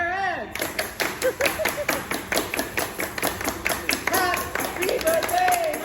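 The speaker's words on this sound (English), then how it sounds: "Everybody, clap your hands!" Restaurant crowd at a seafood boil place clapping in a steady rhythm for a birthday, loud and close, with voices calling and talking over the claps throughout.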